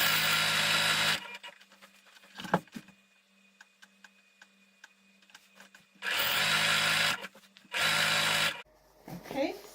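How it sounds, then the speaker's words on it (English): A sewing machine stitching a double hem on fabric while making a flanged pillow, running in two or three loud steady bursts separated by quieter handling and a voice speaking. "I'm going to stitch the double hem"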